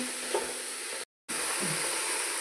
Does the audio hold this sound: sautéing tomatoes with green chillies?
yes